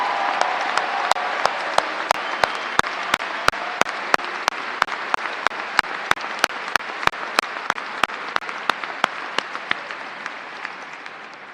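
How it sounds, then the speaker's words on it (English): Steady, sustained applause from a large audience at a high school commencement ceremony for graduating students, an even wash of clapping with sharp individual claps standing out throughout, with no voices. "I believe they deserve a round of applause"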